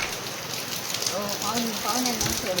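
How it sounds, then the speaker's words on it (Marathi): Steady rain falling and pattering on surfaces nearby, with people's voices faintly underneath. "पाहुण्यांना सोडायला पाऊस सुद्धा आलेला"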